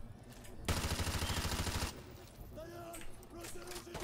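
Rapid automatic gunfire from a no-recoil weapon in the MW2 Remastered campaign, one sustained burst lasting about a second, followed by someone talking over quieter game sounds.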